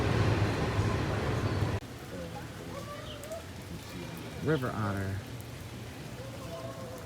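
Rain pours on a river otter enclosure at ZooAmerica in Hershey, Pennsylvania, loud and dense at first, then lighter and steady under a person's speech.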